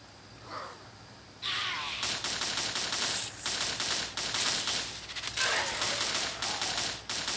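Rapid gunfire from a zombie defense video game, a dense continuous rattle of automatic shots that comes in bursts with brief drops, loud and close, with no talk.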